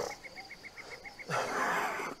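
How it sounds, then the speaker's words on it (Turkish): A sick man lets out one short, hoarse cough that lasts just under a second. It follows a run of quiet, evenly spaced chirping sounds and is fairly faint overall. "O yüzden sürekli böyle arada öksürüyorum falan."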